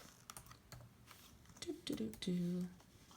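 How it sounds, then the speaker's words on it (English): Soft, irregular keyboard typing clicks, slow and uneven, with a voice briefly murmuring near the end. "I type slow and I'm typing with one hand"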